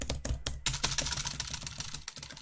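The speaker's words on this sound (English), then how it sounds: "Great thing about having two keyboards, you can tap twice as fast." Rapid, dense keyboard tapping on two computer keyboards, used to time a karaoke song, comes as a fast, steady clatter of keystrokes, close and loud, with no voices.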